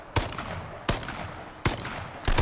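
Gunfire in the video game H1Z1 comes as four sharp single shots spaced about three-quarters of a second apart, each followed by a short decaying tail, with no talk over them.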